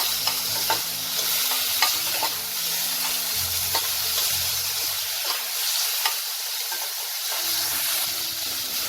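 Chopped tomatoes fry with panch phoron in a hot pan, giving a loud continuous sizzle and hiss with scattered crackles and occasional stirring scrapes, close up with no talking.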